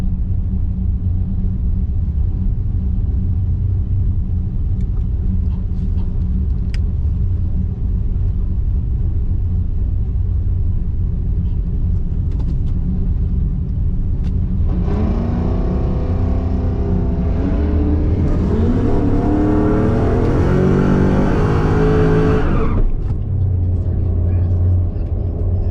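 A race car on the strip during a burnout at Rocky Mountain Race Week in Denver, loud engine rumbling steadily, then revving hard for several seconds with rising harmonics before cutting off abruptly.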